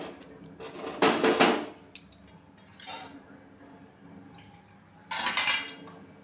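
A metal pot in a home kitchen, cooking a vegetarian soybean curry, clanks as it is handled and covered with a lid. Several loud bright metallic clatters sound close by with quiet gaps between them and no talking.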